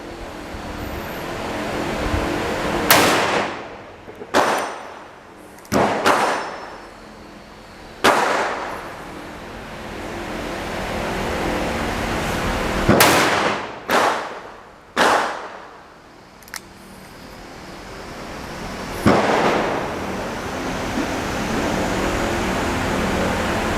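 Loud shots from a Smith & Wesson Model 629 .44 Magnum revolver with a wooden grip and long barrel, several sharp reports spaced a second or two apart, each with a ringing decay, over steady background noise.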